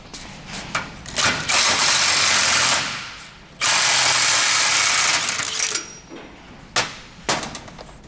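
A worn car wheel bearing in a Toyota Soarer UZZ31 hub spins loudly in the shop, a harsh grinding whir that comes in two long bursts with short knocks and clatter between them.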